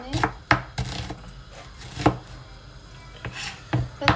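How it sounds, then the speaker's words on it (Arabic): Onion being chopped finely on a cutting board, a series of sharp, close knife thuds at an uneven pace with softer scraping between strikes, loud and clear, with no talking. "ونقطع البصل صغار ناعم يعني"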